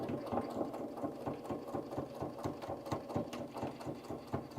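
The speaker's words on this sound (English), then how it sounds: "And a little back stitch." A sewing machine back-stitches in a steady, rapid mechanical rhythm of needle strokes, running continuously at a moderate, close level with no talking.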